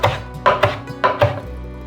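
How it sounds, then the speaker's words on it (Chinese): A knife chops cilantro on a cutting board in quick, crisp strikes, four distinct close thuds in two pairs, then stops. "准备些香菜，把根部切掉，把香菜切碎"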